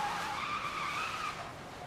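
A car's tires squeal in a sustained skid, the screech wavering in pitch over a low engine rumble before easing off.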